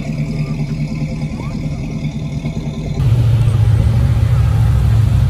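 A Ford GT40 Superformance engine on a terrace in Suresnes: a deep, rough, loud rumble that jumps to a heavier, louder rev halfway through and holds there, heard close by.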